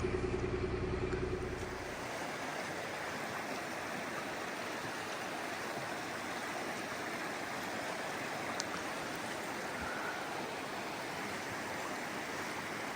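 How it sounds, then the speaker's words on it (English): Salmon River water flowing in a broad, steady rush that fills the whole clip, continuous and even with no voices. "It's an actual river,"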